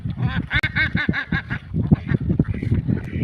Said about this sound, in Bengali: দেখেন নদীতে আবার হাঁস সাঁতার কাটতে আছে